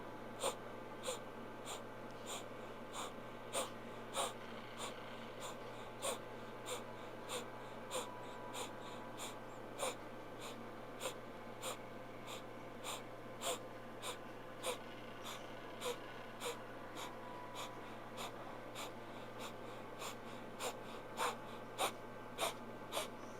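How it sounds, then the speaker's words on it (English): Breath of fire during a Kundalini yoga class, rapid rhythmic nasal exhalations pumping out steadily about once per second, close and even, over a constant low background hum, with no talking. "And then start your breath of fire."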